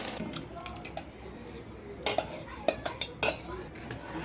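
A spoon stirs cooked vegetables with melted butter in a pan for pav bhaji, giving quiet scraping with a few sharp metallic clinks against the pan over a faint background hiss.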